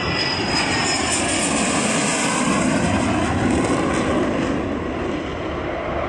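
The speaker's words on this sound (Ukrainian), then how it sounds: "Для імітації повітряної атаки військові використовують бойовий літак Міг 29" A MiG-29 fighter jet at a military airfield in Ivano-Frankivsk gives a steady, loud, broad engine roar with a whistling high edge, holding constant throughout without a break.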